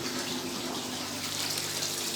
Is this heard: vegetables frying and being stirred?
no